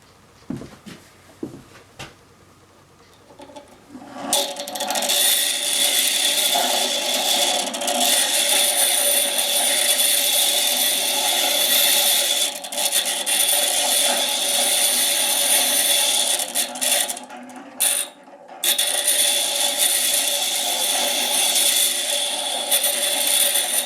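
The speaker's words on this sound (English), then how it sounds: "So I'm going to trim some of these off, and we'll get them on the jointer." A jointer trims wood with a loud, sustained whirring roar and scraping cut. A few scattered knocks come before it, and the sound carries on with brief dips near the end.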